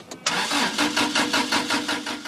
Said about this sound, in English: But the engine just won't catch.